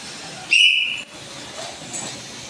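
One sharp, shrill referee whistle blast is blown in a volleyball class, loud and held for about half a second before trailing off into quiet room noise.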